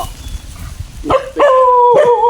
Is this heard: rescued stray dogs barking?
yes